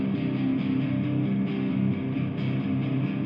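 Electric guitar recorded DI straight into a computer, a thick continuous stream of chunky low chords with a dull, boxy, distorted tone, steady and close.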